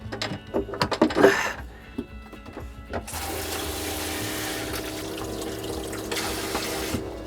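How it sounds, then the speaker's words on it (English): A boat pump runs with mechanical clicks and clunks before it starts spraying water into a bucket, giving a loud, steady hiss and splash that continues to the end. "Stick this in a bucket and see if I can spray water out of here."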